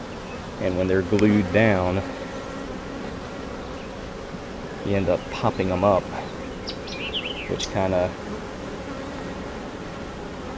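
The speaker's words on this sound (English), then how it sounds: "gets the bees flying a little more than you may like" Bees swarm around an opened beehive as glued-down soft plastic frames are pried up during a weekly inspection. Their dense, steady buzzing fills the background throughout while someone talks over it.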